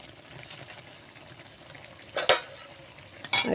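Ghee spooned into a pan of frying cauliflower roast, a low, steady sizzle with a sharp hiss as it hits the hot pan, followed by a second brief hiss near the end.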